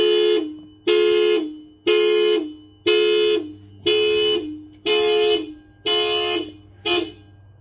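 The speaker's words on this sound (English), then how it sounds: "When you first hook your battery back up, it goes nuts with the car alarm." A 1998 Toyota Camry's alarm blares right after its battery is reconnected: a loud, close horn honks in a steady rhythm, about eight long blasts of nearly a second each with short gaps between them, and no talking.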